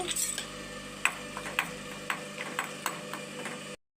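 Cashews and raisins dropped into hot ghee for a poornam halwa, giving soft crackles and a series of small sharp clicks and ticks of frying and stirring, faint and close, ending abruptly.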